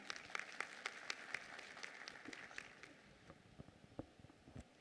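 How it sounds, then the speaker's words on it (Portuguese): An audience at a civil engineering round-table conference applauds a panelist, a faint, thin patter of scattered hand claps that continues steadily and then tapers off. "Palmas para a Mônica."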